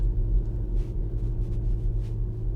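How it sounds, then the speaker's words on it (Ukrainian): Skoda engine running in sport sound mode with the DCC chassis set to comfort, a steady low droning rumble heard from inside the car, continuous and fairly loud, with no talk. "звук двигуна буде спорт"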